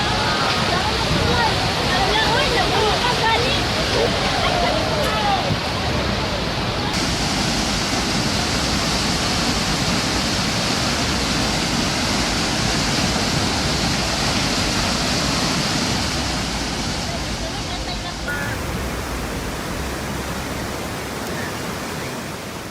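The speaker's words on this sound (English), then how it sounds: "The road that day had to give way to the flash flood" Flash flood water roaring over a road as it carries earth, rocks and debris, a loud, steady broadband rush that stays dense and unbroken throughout, close and overwhelming with no voices.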